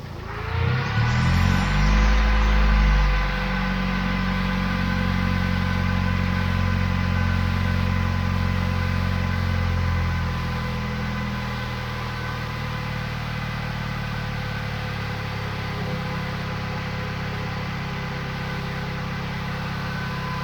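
Mitsubishi Evo 5 engine idling as it warms up after a radiator install, following eight months unstarted; a loud start-up surge settles into a steady, even idle hum that drops slightly in level about halfway through.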